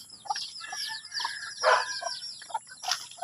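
Three-day-old chicks peep in a series of short, high, chirping calls, several overlapping at a fairly close distance, with brief gaps between bursts and no talking.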